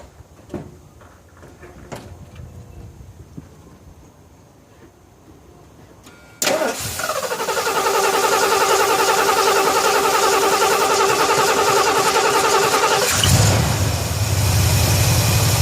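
A 1976 Ford F250 with a 460 V8 and Holley carburetor cranks and catches abruptly after quiet clicks and shuffling, then roars into a loud, steady high idle that settles lower near the end.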